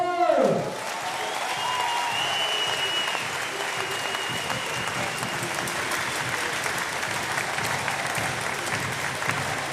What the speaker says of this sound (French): Encore applaudir Montreux!